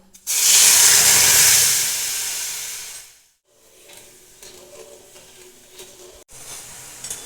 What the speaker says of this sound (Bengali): রসটা ফুটে গেছে আর একটু আমি ফোটাবো